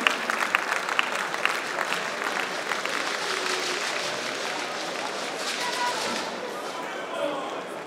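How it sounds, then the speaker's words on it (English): A crowd at a 65th birthday celebration applauds the drummers from Osun state, opening with a few sharp claps that swell into sustained clapping and cheering. "Can we for a minute give a round of applause to the drummers from the state of Osun?"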